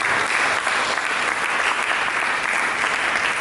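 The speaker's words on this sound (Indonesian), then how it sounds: "Mari kita berikan tepuk tangan." A church congregation bursts into loud, sustained applause, a dense wash of many hands clapping close and evenly for a few seconds with no voices on top.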